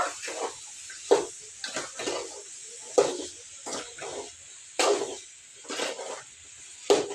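Boiled cauliflower is being mixed with salt and chili powder in a pot, producing a steady series of soft scraping and tossing strokes, roughly one each second, close up and fairly quiet.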